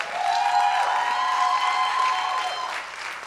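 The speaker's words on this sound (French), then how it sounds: "très, très, très grosse main d'applaudissement." A studio audience at a French-language variety show bursts into sustained applause, loud and steady throughout with no talk over it, tapering slightly at the end.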